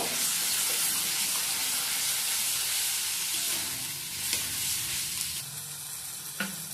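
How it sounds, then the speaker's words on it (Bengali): Garlic paste frying in hot oil for a fish and potato curry, a dense close sizzle and hiss that eases slightly midway, with a few sharp spatula scrapes near the end. "রসুন বাটা দিয়ে আবার একটু ভেজে নেব।"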